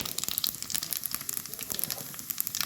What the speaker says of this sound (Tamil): எண்ணெய் ஊற்றி எண்ணெய் காஞ்சிட்டு கொஞ்சம் பெருஞ்சீரகம் சேர்த்துருக்காங்க